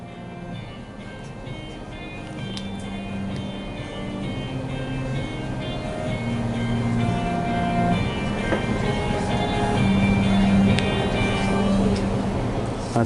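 Light rail train running through a city in Ethiopia, a steady rumbling and rolling drone with tonal wheel and motor whine, growing slightly louder over time with no talking.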